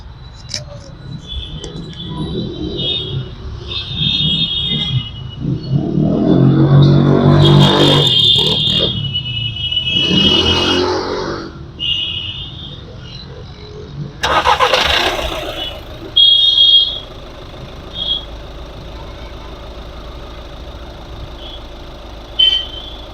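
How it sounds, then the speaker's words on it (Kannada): Diesel engine of a 2015 Skoda Rapid automatic in very good condition cranking and starting, a brief loud whirr then a clattering idle, followed by further loud engine bursts and quieter running, with a person talking at times. "ಇವಾಗ ಸ್ಟಾರ್ಟ್ ಮಾಡಿನೂ ಕೂಡ ತೋರಿಸ್ತೀನಿ ಹೆಂಗಿದೆ ಅಂತ ಇಂಜಿನ್ ಸೌಂಡು."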